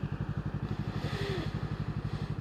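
A motorcycle engine pulses at an even, steady rhythm while riding at cruising speed, moderately close with wind noise and no talking.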